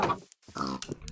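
Pig oinking in Minecraft, two short grunting bursts separated by a brief silence, fairly close and moderately loud, with no talking.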